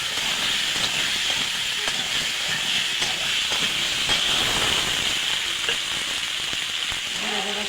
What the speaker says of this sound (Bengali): এটা একটু ভেজে নেব। এবার এই টমেটো আর আলুটা দিয়ে দেব।